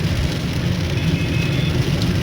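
Heavy rain in Karachi pours in a dense, steady hiss and roar, loud and close, with no voices.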